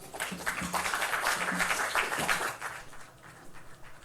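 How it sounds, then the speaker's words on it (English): A modest round of audience applause welcoming Reform UK leader Richard Tice at a political rally, steady and fairly soft with a few voices underneath, tapering off toward the end. "Not the loudest round of applause in the world"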